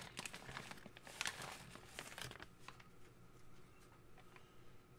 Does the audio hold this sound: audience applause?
no